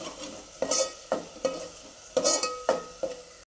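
Spice paste and tomato gravy being sautéed in oil for a Maharashtrian fish fry: a steady sizzle broken by about eight sharp scraping stirs of a spoon against the pan, close and fairly loud, with no talking.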